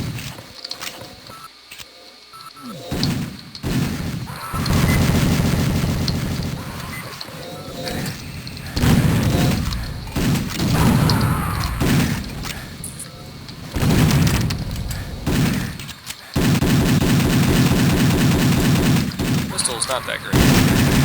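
Sentry turrets firing in the video game Doom, loud, heavy bursts of repeated gunfire with booming blasts, coming in dense waves with brief lulls between them.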